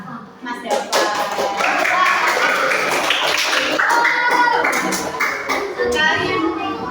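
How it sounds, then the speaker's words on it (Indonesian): Children in a classroom break into applause, a dense burst of quick hand claps that swells after a brief start and carries on steadily for several seconds, with young voices chattering underneath. "Tepuk tangan untuk Mas."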